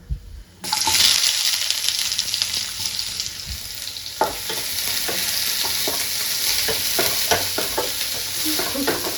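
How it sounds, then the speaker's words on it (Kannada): Onions hitting a hot pan and frying with a loud, steady sizzle after a brief quiet start, broken by repeated scraping knocks of stirring. "ಇವಾಗ ನಾವು ನೀರುಳ್ಳಿ ಹಾಕ್ಕೊಡುವ."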